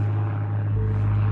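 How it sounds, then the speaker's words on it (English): A steady low aircraft drone hums throughout, swelling slightly as it continues overhead. "Goddamn airplanes."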